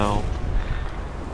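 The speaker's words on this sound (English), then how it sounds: "now a Russian is filling 12-inch sap shells into me faster than I can count them" A 12-inch SAP shell strikes a warship in War Thunder, a single heavy boom that decays into a low rumble over about a second.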